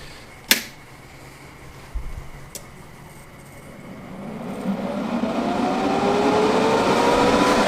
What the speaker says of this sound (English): Okay, time for a bit of fan noise.